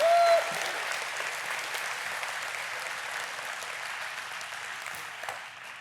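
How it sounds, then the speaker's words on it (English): A church audience gives a woman a big round of applause, with steady, dense clapping that begins strongest and gradually thins out, heard alone. "Would you guys give her a big round of applause?"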